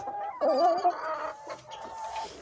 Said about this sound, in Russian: Он еще молодой, этот петушок.